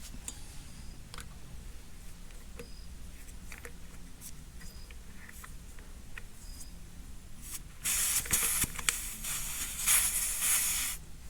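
A soft, steady hiss of air escaping from an RV tire valve runs quietly through the background, then grows louder and brighter near the end.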